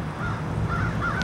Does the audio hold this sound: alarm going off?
no